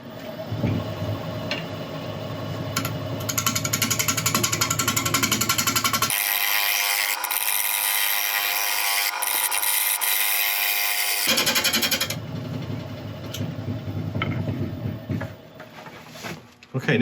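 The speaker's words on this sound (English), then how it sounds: "So I'm going to start off with a ball gouge." A wood lathe turning a fresh blank with a ball gouge, a loud continuous roaring cut that shifts tone as the tool bites, then drops away toward the end.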